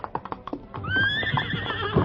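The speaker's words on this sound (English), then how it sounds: "he continued to spur the exhausted horse." An exhausted horse in an old-time radio drama gallops with a quick run of hoofbeats, then lets out a long, loud, shrill whinny as the hooves keep thudding beneath it.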